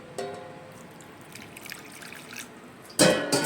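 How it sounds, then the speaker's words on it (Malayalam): A short trickle of water drips and splashes softly into a bowl of pizza ingredients, then a louder burst of pouring liquid near the end. "അതിൻ്റെ അകത്ത് കുറച്ച് വെള്ളം ഒഴിച്ചു കൊടുക്കണം"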